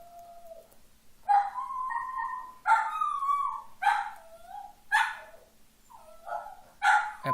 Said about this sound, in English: I apologize, my dog is making a lot of sounds.